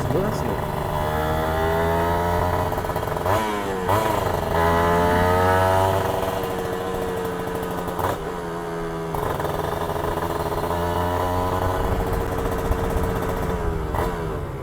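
A Kawasaki Ninja two-stroke motorcycle idles and revs at night with a buzzing, raspy engine tone, rising in several short throttle blips, loud and close.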